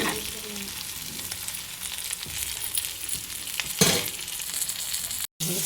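Food frying in a pan at home gives off a dense, continuous hiss and crackle, close and steady, with a brief clunk near the end and a short dropout of sound, and no talking.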